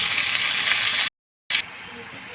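Loud hissing sizzle as mustard greens and red amaranth greens are added to garlic paste frying in a pan, briefly cut to silence, then resuming softer with faint voices in the background.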